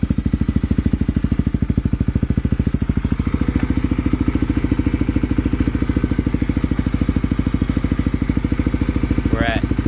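A fuel-injected Kawasaki KLX351 motorcycle engine idles near 1500 RPM with a loud, close, rapid and even thumping pulse, and a brief high squeak sounds near the end.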